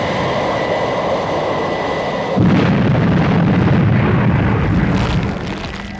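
Loud explosions burst directly beneath a flying cargo aircraft in an animated rescue adventure. A steady engine drone is abruptly overtaken by a sustained, booming blast that rumbles for a few seconds and then subsides. No one speaks.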